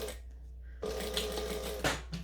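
A sewing machine stitches card slots for a wristlet in a short mechanical whirring burst that starts after a near-silent pause, then runs steadily up close and stops, with a brief second run at the end.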